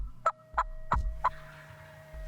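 Wild turkey gobbling during a spring hunt, four sharp gobbles in quick succession, fairly close and loud, over a steady background hum with no talking.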